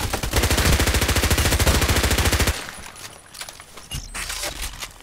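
Rapid MP5 submachine gun bursts in Contract Wars, a tight rattling stream of shots for about two and a half seconds, then quieter scattered sounds and a few distant shots.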